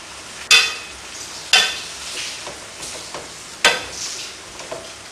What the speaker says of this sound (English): Give it a good stir around, and if you've got time, let it simmer for about 20 minutes